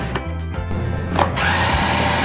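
Tornado Tower blender running steadily nearby for a couple of seconds, a loud whirring motor with a brief shift in pitch partway through.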